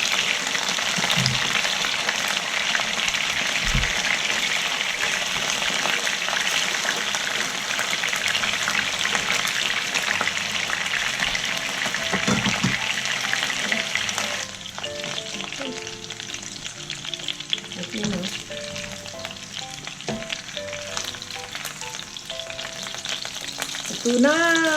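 Chicken tocino frying and browning in a pan, a dense steady sizzle that fills the whole stretch, with occasional stirring clinks and the sizzle thinning slightly in the second half.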